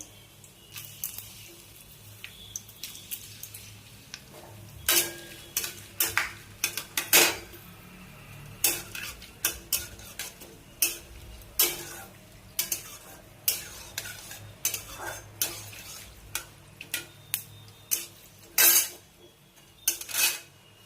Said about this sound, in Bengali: গরম মশলা লাল হয়ে এসেছে, ভেজে গেছে।